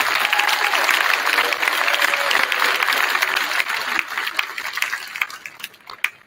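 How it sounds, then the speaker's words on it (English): Audience applause at a middle school winter band concert, a dense sustained clapping that fills the room, then thins and tapers toward the end with a few scattered last claps. "So can you give them a round of applause, please?"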